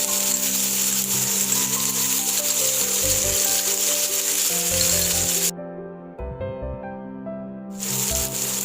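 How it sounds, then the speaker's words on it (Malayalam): Sliced onions sauté in oil in a pan with a steady, close sizzle that carries on throughout, alongside faint scraping and rustling. "ഒരു 3 സവോള ചേർത്തിട്ട് നന്നായിട്ടൊന്ന് വഴറ്റിയെടുക്കണം"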